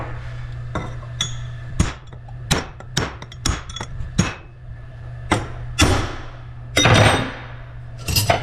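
Hammer blows drive a bearing race into the gearbox of a Case, New Holland or John Deere track loader final drive, a series of about a dozen sharp metallic strikes at irregular intervals, loud and close, with a steady low hum beneath.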